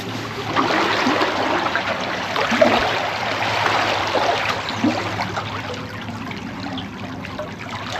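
River Trent floodwater rushing through a culvert, a loud continuous broadband roar of flowing water close by, steady throughout with no voices.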